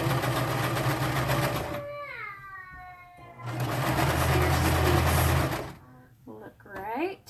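A sewing machine stitches shirring rows on the sleeves of a Belle dress made from a men's T-shirt, with loud whirring bursts of stitching broken by pauses where someone talks.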